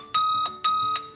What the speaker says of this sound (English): You can also adjust the tone of the alarm.